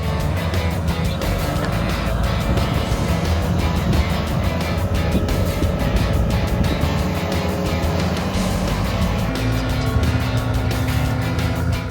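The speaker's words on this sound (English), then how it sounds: "I bet you never seen a Model Y towing a freestyle ramp" A Tesla Model Y towing a freestyle ramp gives a loud, steady rolling and road rumble that stays up close for the whole stretch, with no clear voices over it.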